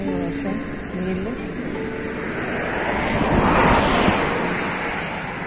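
Rainwater rushes and surges steadily at Gandipet lake, a broad continuous roar that swells louder midway, with wind buffeting the microphone.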